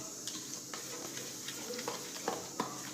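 A spoon stirs sugar into smooth yogurt for dahi vada, making a steady close scraping swish with a few soft clicks against the bowl, with no talking.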